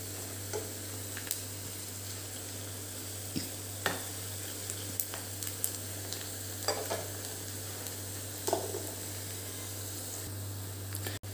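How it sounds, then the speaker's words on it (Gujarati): Onions and two dried chillies sautéing in a pan for an aloo palak sabzi, a soft steady sizzle with occasional scrapes and clinks of stirring, over a constant low hum. "હવે એને લાઇટ બ્રાઉન થાય તે સુધી આપણે સાતડવા દઈશું, એટલે લગભગ 5 મિનિટ સુધી સાતડવા દઈશું."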